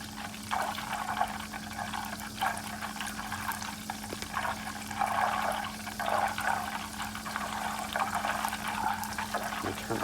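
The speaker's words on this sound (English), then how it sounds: "Now I'm just gonna let it boil for a minute or two like this." Butter boiling in a pan while being made into ghee, a soft, steady bubbling and sizzling with a faint constant hum underneath.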